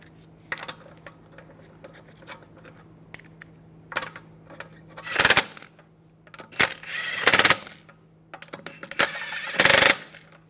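Metal lug bolts clink and rattle as they are fitted into the rear wheel of a Mercedes-Benz E350, several bright jingling bursts separated by quieter gaps with small taps and clicks.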